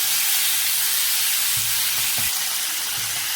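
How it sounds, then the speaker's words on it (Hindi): Small chicken pieces fry in a pan for homemade chicken shawarma, giving a steady loud sizzle with a few soft stirring clunks and taps in the middle and near the end. "अब इसमें चिकन डाल देते हैं। ये जो छोटे छोटे पीस करके मैंने रखा हुआ था, इसको फ्राई कर लेंगे।"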